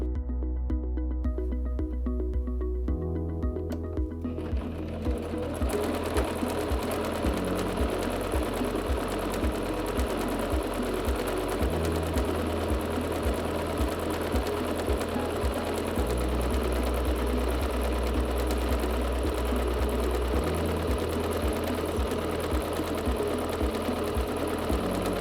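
A Singer C5205 electric sewing machine runs a stitch nonstop, its rapid needle clatter close and loud. The motor hum shifts in pitch at regular intervals as the pattern cycles, with a brief slower start at the opening.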